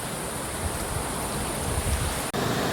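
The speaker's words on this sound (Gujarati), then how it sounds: "તો દોસ્તો તમને આ ધોધના હું નીચેથી પણ દ્રશ્ય બતાવવાની કોશિશ કરીશ" A small waterfall in a forest in the Umarpada area, heard from below as a constant, even hiss of falling water, with a brief dropout near the end.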